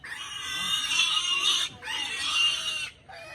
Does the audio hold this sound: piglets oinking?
yes